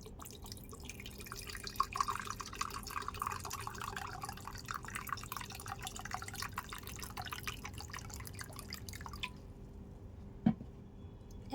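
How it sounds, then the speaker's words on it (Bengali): Water being added to ground rice in a bowl while making papad batter, a steady soft liquid trickle with small drips running for about nine seconds before stopping, with one sharp knock near the end. "চালটা একটা বাত্রের মধ্যে ঢেলে নিচ্ছি এর মধ্যে জল দিয়ে দেবো"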